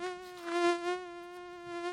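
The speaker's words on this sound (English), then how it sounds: "a mosquito buzzed near his ear." A high, steady mosquito whine with strong harmonic tones, close by as if near the ear, swelling louder in the middle and then easing, with no voices.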